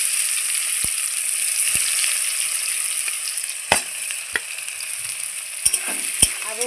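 Onions frying in a pan after potatoes were browned, a loud steady sizzle with occasional sharp taps and scrapes of a spoon against the pan, close up, without speech.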